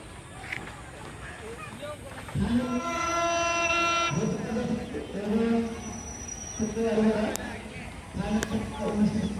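The Ekta Express, hauled by a WDM3D diesel locomotive, approaches on a through line with a loud horn blast, followed by rumbling and whistle-like tones over the running engine.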